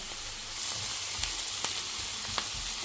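Mushrooms and onion fry in a pan with a steady, soft sizzle and a few light clicks from stirring, alone and fairly quiet.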